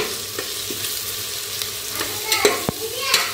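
Tomatoes frying in oil with ginger-garlic paste for a biryani, a steady low sizzle broken by a few sharp stirring clicks and scrapes, close and moderately loud with no talking.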